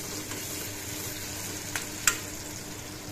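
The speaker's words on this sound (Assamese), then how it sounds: "এইখিনিও সেই একে তেলতে ভাজি দিলোঁ।" Pieces of pointed gourd fry in hot oil seasoned with salt and turmeric, giving a steady soft sizzle with a couple of brief clinks from stirring.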